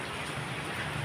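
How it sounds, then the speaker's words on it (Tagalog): Heavy monsoon rain pouring at an outdoor fair in Tayabas, a dense, steady hiss of downpour with no voices during the brief moment. "Malakas ang ulan."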